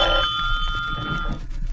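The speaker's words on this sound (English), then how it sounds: "the phone on my desk rang" A desk telephone rings in an old radio drama, a short metallic bell trill that fades out within a second over a hissy, worn background.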